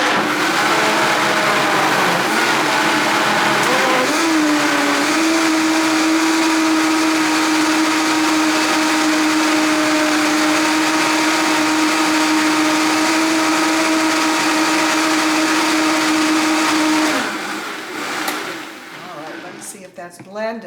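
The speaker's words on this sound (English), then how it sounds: "I'm going to blend this so it purees" A countertop blender purees butternut squash soup, running loud and steady for about seventeen seconds with a sustained motor whine before cutting off, followed by a few clattering handling sounds.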